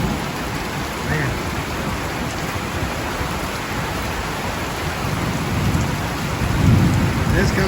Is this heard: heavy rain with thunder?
yes